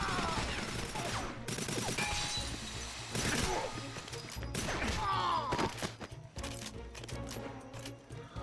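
Gunfire from a GoldenEye 007 shooter on Wii, a mix of sharp shots and crashing impacts scattered through a busy game soundscape, some bursts dense and fusillade-like, with faint talk underneath.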